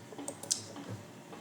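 A computer mouse gives a few quick, faint clicks close by in a quiet room, with a small cluster of taps near the start and then near silence.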